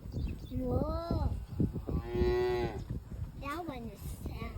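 Cattle being fed outdoors moo several times close by, low drawn-out calls with rising and falling pitch over a rustling background.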